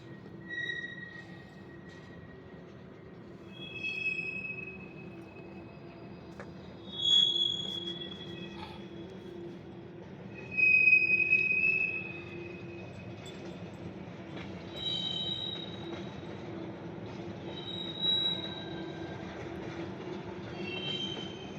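A freight train being shoved north along the tracks, its steel wheels giving off several sharp, high squeals against the metal rails over a steady low rumble. The squeals rise now and then, some of them fairly loud.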